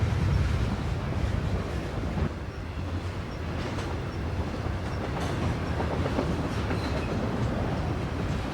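A CSX freight train rumbles steadily across the high Magnolia Bridge over the Potomac on the Magnolia Cut Off, a continuous broadband roar of wheels and cars with wind buffeting the microphone and no voices.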